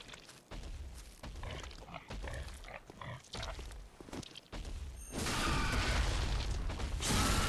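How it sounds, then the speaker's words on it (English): A giant pig enemy in the video game Bloodborne grunts and snorts in repeated heavy bursts. Mechanical clanks of combat come before it, and a louder sustained roar follows near the end. "We're gonna sneak attack this pig with a spider head."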